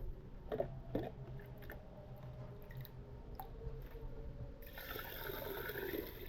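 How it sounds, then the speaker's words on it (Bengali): Water is poured over washed rice in a pot, ready to cook over a wood-fired stove. Faint handling clinks come first, then a steady splashing pour rises over the last second and a half. "চালটা ধুয়ে এনেছি এবার চালে জল দেব"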